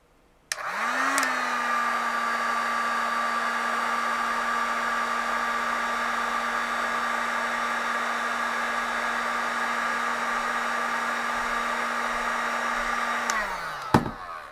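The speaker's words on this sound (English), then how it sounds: "As I have a heat gun, let me just heat it up a little." A heat gun blows hot air onto a DHT11 temperature sensor, a steady close whooshing roar with a faint tonal whine that switches on, holds constant for about twelve seconds, then cuts off.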